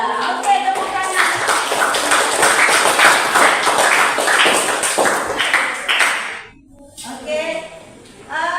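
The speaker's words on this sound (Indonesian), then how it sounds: "tepuk tangan" Classroom of pupils clapping their hands together in a dense burst lasting several seconds, close and loud, fading out with a brief pause before a smaller patter resumes.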